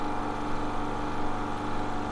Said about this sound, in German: Hier die Membranen und die Hochdruckpumpe.